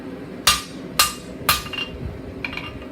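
Three sharp, evenly spaced hammer blows ring out close by as steel is forged into a taper for a campfire tool stand, followed by a lighter metallic clink.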